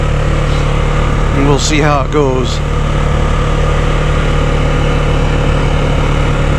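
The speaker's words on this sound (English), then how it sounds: "I hear a lot of engine noise up in here, so it's got to be coming in through the microphone" An ATV engine drones steadily and low during a trail ride, a constant rumble picked up by a helmet-mounted camera, while someone speaks briefly over it.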